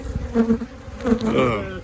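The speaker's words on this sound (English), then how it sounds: "there's bees everywhere, all around us" Bees swarm around a large hive, buzzing loudly and close with wavering, overlapping drones that rise and fall in pitch.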